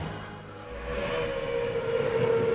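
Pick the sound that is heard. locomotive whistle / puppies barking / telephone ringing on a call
locomotive whistle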